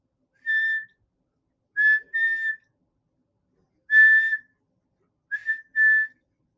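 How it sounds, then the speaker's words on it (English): A person whistles a repeating pattern of one clear whistle followed by two quick ones, then the pattern again, each note bright and isolated against silence. "It's one whistle and then two whistles, and then I do it over again."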